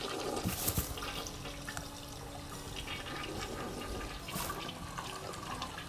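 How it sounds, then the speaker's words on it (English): A toilet flushes in a home bathroom with a steady, loud rush of water lasting several seconds, with surging swirls and gurgles as the tank refills. "Flush the toilet a couple times."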